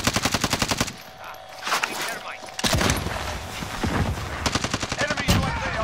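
Rapid automatic gunfire bursts in Call of Duty: Modern Warfare, loud close rattling volleys that stop and restart, with shouted voices and other battle noise in between.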